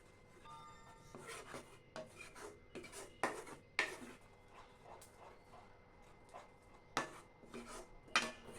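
Gram flour batter for Mysore pak, still lumpy, is rubbed and stirred in a bowl, giving soft scraping and rasping strokes in an uneven rhythm with a few sharper knocks, close and fairly quiet.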